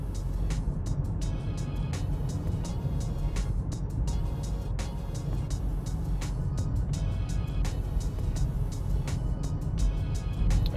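A Ram 2500 HD truck cruising down the road at a steady 40 mph on cruise control, a continuous low rumble of road and tire noise from inside the cabin with faint clicks over it.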